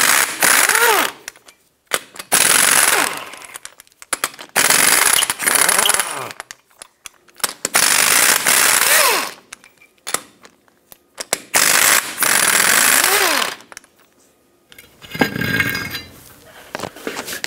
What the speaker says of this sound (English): With a 21 millimeter socket, remove all 10 of your lug nuts and then remove the wheel.